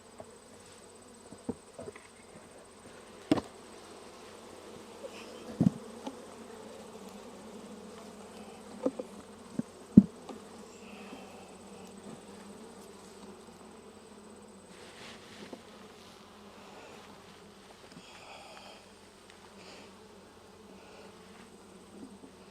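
Honeybees drone in a soft, continuous hum around an opened hive, faint and close, broken by occasional sharp knocks and clicks as hive parts are handled, with no voices.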